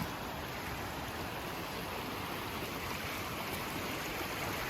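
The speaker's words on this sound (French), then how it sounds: "la cascade est là-bas, derrière les arbres" The cascade de la Fouge waterfall and its stream produce a steady, full rushing hiss of flowing water that holds at an even level without a break.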